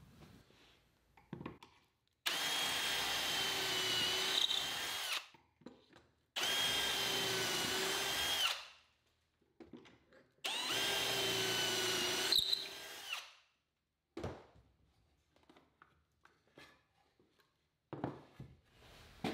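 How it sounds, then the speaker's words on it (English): A power drill bores pocket holes into a poplar frame for a bookcase base, sounding in three loud, even bursts of a few seconds each, separated by quiet gaps with faint handling noises. "I'll need to drill a few pocket holes"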